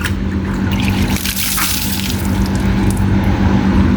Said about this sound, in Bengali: মুখে পানি দাও মুখে পানি দাও পানি ছিটাও